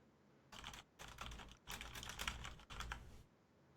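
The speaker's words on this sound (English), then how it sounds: "But here's a sample of me typing." A mechanical keyboard with red switches and dampeners typed on in short bursts of soft, muffled clacks, separated by brief pauses, close and fairly quiet.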